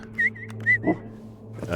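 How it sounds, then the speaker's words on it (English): Two short, clear whistles in quick succession, the double-whistle recall command for a dog in the video game CONVRGENCE, sounding over a low steady hum. A short voice fragment comes between them and more talk starts at the end. "double whistle, 2 short whistles, he'll come"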